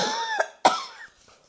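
Two sharp coughs from one person close by, spaced a moment apart, each followed by a short breathy tail in an otherwise quiet room.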